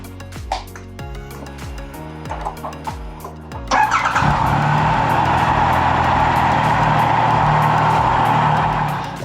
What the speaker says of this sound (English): and we'll run the bike again for a while.